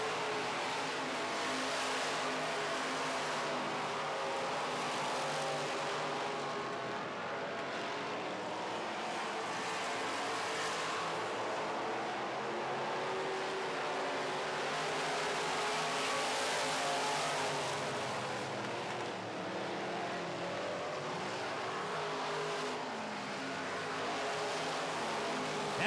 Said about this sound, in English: Cars all over the racetrack,